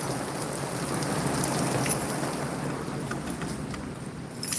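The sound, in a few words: heavy wind-driven rain outside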